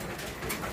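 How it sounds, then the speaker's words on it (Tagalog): Racing pigeons crowd a three-tier loft, a short burst of soft overlapping cooing and bird calls close by with no talk. "So ito yung ating mga ibon guys, sandamukal."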